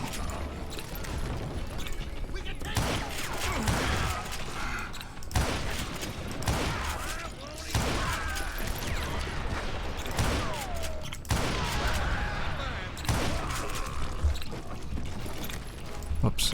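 Rapid gunfire in the Western shooter game Call of Juarez: Gunslinger, with repeated bursts of shots and clanking mechanisms spread across the clip amid game effects, fairly quiet overall.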